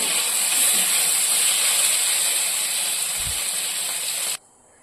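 Paneer, about 300 to 350 grams, fries in hot oil with a loud, steady broadband sizzle and hiss that runs nearly the whole time, then abruptly cuts off near the end.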